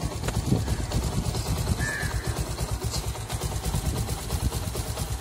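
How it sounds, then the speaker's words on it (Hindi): A Bajaj Discover 110 motorcycle engine idling steadily just after starting, a close, continuous low putter with a fast regular pulse and some background noise. "ये देखिए स्टार्ट होने पर इस तरह से चल रही है।"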